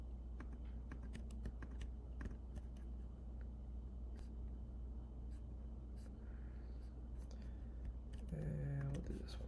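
A computer mouse clicks in a quiet room: sharp, close, scattered clicks in irregular clusters over a low steady hum, with a short electronic beep sequence near the end.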